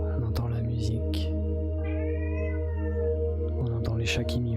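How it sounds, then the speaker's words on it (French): Cats meowing over a steady background of soft music, with a couple of drawn-out mewing calls rising near the start and end. "On entend les chats qui miaulent."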